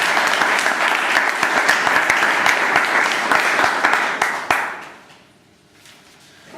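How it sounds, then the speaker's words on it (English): Audience applause at a Toastmasters meeting: a sustained, dense round of clapping that holds steady for several seconds, ends with a sharp final clap and then fades into near silence. "a big round of applause."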